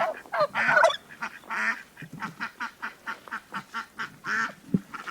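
A flock of geese and ducks honking and quacking close by, a rapid series of loud calls in an uneven, chattering rhythm.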